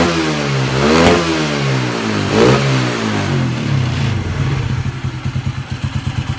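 Modified Exciter 50cc motorcycle engine, bored to 110 with 54 mm parts, revving hard twice up close, then settling into a rough, loping idle.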